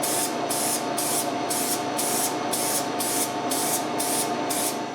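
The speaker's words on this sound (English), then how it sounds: "When it's dry, I spray a coat of white acrylic." White acrylic paint is sprayed onto a shellac-sealed woodpecker carving, a steady close hiss that pulses in quick regular bursts, about two per second, with no voices.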